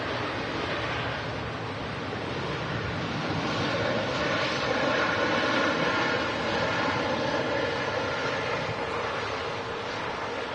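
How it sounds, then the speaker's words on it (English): An Air Portugal airliner taxis onto its stand at Manchester Airport, its engines making a steady, broad roar and whine heard from a nearby viewpoint, continuous and even with no talking. "A great shot of the pilots taxiing that aircraft in."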